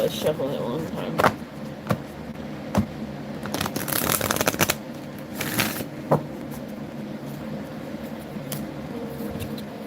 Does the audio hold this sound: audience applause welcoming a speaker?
no